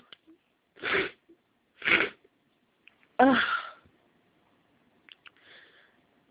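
Three loud, close sneezes from one person at roughly one-second intervals, each a sharp broadband burst, followed by faint sniffs and breathy noises in an otherwise quiet room.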